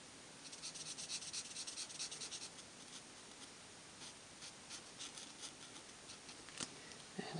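A marker scratches and rubs softly across folded paper bauble pieces, faint, close strokes repeating in short bursts with no talking.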